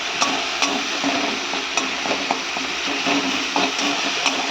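Tomato, ginger and garlic fry in a pan with a steady, close sizzle broken by irregular stirring scrapes and clicks throughout.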